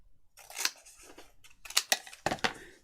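Several crisp snips of scissors trim paper for a junk journal, coming in short bursts with brief pauses between them, close and clear.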